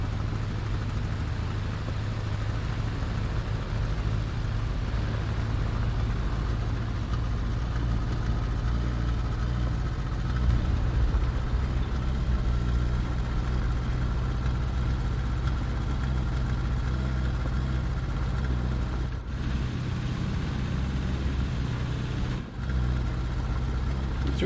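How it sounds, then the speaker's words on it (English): A vehicle engine idles steadily in the War Thunder video game, a low, constant rumble that holds for the whole stretch with only small swells in level and no speech. "Do you like these new engine sounds?"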